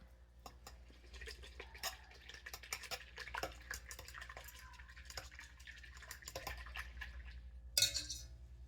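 Fork stirring sourdough in a bowl by hand: repeated quick, soft wet clicks and scrapes in an irregular rhythm, close and fairly quiet, with a brighter clink near the end.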